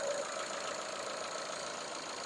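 A Ford Mondeo engine with 294,000 km on it idles smoothly under an open bonnet, producing a quiet, even, continuous hum with no talking.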